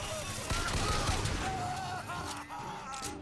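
Enemy gunfire in BioShock Infinite, scattered shots and bursts from several guns in a busy, noisy firefight, heard alongside other game sounds.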